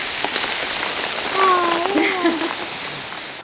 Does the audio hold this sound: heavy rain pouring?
yes